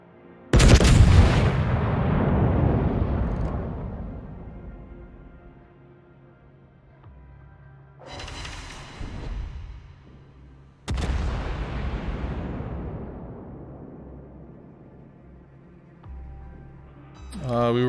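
Heavy naval guns firing at an enemy warship in a video game, three separate booming salvos, each a loud blast followed by a long rumbling decay.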